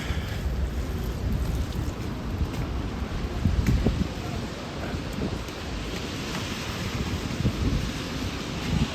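Steady wind and heavy rain roar during a city walk through slush, a dense continuous wash of noise with gusty swells and no clear voices.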